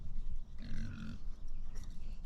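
Pigs grunting at a farm enclosure near an electric net fence: repeated low, throaty grunts close by in irregular bursts, with a louder squealing grunt in the middle and a short sharp noise at the end.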